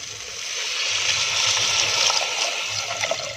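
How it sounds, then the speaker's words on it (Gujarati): Water poured into a pot of ghee-softened bajra for khichdi, a steady broadband splashing rush that swells and holds for several seconds, close and fairly loud with no talk. "હવે એમાં પાણી એડ કરી દઈશું"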